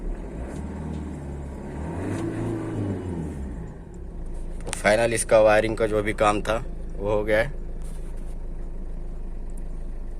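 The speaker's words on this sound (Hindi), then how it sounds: "गाड़ी भी स्टार्ट हो गया हमारा।" Ford Figo engine running at a steady idle, a low even rumble that continues throughout while someone talks over it in the middle.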